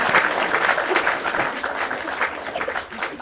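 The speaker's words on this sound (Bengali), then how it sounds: "তার জন্য আবার জোরে করতালি জোরে করতালি।" Loud, steady applause from a group during a playful bottle-flip food challenge with phuchka, clapping sustained across the whole moment without pause.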